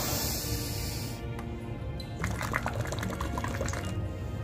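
As part of a post-COVID breathing exercise, a long exhale is blown through a tube into water, producing a continuous bubbling gurgle that starts after about two seconds and stays close and steady.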